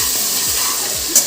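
Ginger garlic paste stir-fried with onions and green chillies sizzles steadily in a pan, with soft scraping strokes from stirring roughly every half second and a brief brighter hiss near the end.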